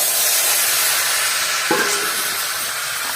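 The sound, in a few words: potato and radish frying in oil with cumin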